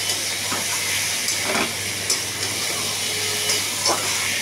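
A ground mustard and peanut paste fries in a pan for drumstick-stalk chorchori while it is stirred: a constant close hiss with occasional soft scrapes and a low hum underneath.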